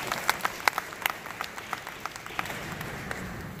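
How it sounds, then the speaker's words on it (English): Audience applause at an NAACP gathering, scattered individual claps standing out from a thin crowd clapping that tapers off quickly. "Give yourself a round of applause."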